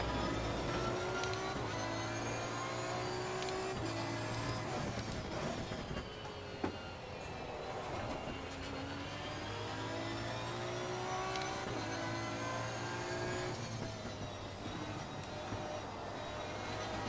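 Race car engine in Assetto Corsa Competizione, a loud sustained roar that climbs and drops through repeated gear changes, rising whines and brief dips, continuous for the whole stretch.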